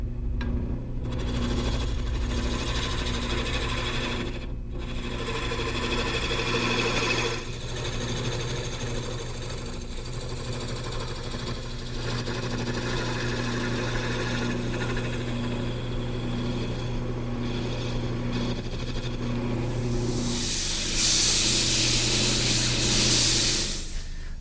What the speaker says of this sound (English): Now I'll return to the gouge to taper the legs.